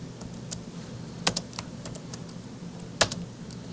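Close, fairly quiet typing on a computer keyboard: scattered individual keystrokes with a couple of sharper, louder presses, irregular in rhythm, over a low hum, with no one talking.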